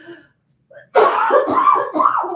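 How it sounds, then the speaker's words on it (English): A sudden burst of harsh coughing erupts after a near-silent moment, several rough coughs running together close to the listener. "My throat's getting dry. Hold on. Oh no. Cough attack."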